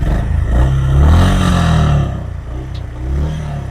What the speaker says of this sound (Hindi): कुछ इस तरह का एग्जॉस्ट नोट मिलता है विद द CB350 RS